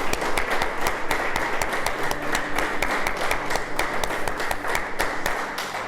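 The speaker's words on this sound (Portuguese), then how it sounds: "Vamos aplaudir o Senhor." A church congregation applauds together at a worship service, dense sustained clapping that fills the room steadily throughout, loud and close with no pauses.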